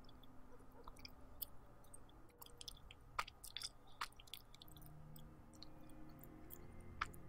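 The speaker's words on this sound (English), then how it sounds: "Gum chewing sounds are so The more gross." Soft, close gum chewing with faint wet clicks and smacks at an irregular pace, quiet over a low background hum.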